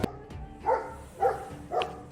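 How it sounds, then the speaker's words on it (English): A dog barks three times at an even pace, muffled and somewhat distant, after a couple of sharp knocks. "Every dog in the street is barking at nothing."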